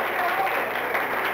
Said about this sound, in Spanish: Un aplauso para don Jaime